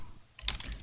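A few quick keystrokes on a computer keyboard, close and crisp, clustered in a short burst after a brief quiet moment.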